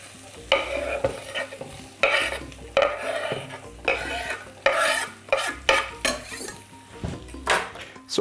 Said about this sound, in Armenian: և տապակում սոխը։